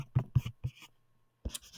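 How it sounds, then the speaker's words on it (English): Short scratchy strokes of a pen on paper, several quick marks followed by a pause and another stroke, close and fairly quiet. "I'm going to write that over here."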